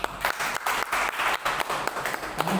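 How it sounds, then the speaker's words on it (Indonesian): A church congregation claps in thanks during a service, a steady run of hand claps at moderate loudness, fairly close and without speech over it. "tepuk tangan buat Tuhan Yesus"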